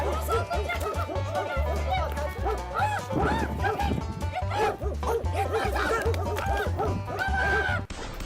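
Dogs bark and yip repeatedly amid excited chatter and laughter, with a steady low hum underneath throughout.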